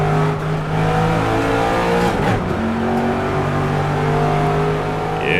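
Engine of the BTM NightMare R mod car in a sim racing game, a loud, steady high-revving drone with pitch shifts between gears and brief dips, continuous throughout.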